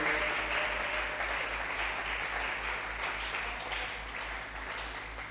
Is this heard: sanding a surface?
no